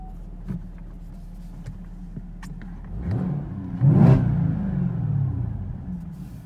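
A 2018 Chevrolet Camaro ZL1 1LE engine idles with a steady low rumble, then swells into a louder throaty rev around the middle before settling back to a fuller idle, with a few faint clicks early on.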